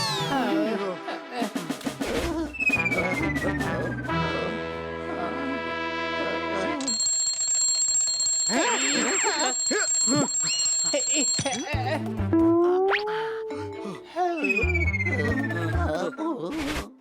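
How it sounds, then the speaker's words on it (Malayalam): An alarm clock set for twelve o'clock rings loudly and continuously for many seconds in an animated kids' show, its shrill electronic tones shifting pattern, with cartoonish sound effects mixed in. "ആ ക്ലോക്കിൽ 12 മണിയുടെ അലാറം വെച്ചിരിക്കുന്നത്."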